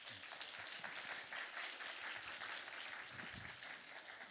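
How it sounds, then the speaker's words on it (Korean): Audience at a youth church worship service applauding in thanks after a guest lecture, a steady, dense wash of clapping sustained evenly throughout without talk. "수고해 주신 소장님께 감사의 박수."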